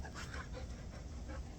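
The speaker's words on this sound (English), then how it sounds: "and a dog that wants to go play." A dog panting on a quiet morning at a lakeside campsite in Maine, soft and steady rapid breaths close by with no one talking.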